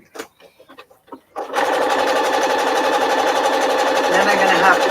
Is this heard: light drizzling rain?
no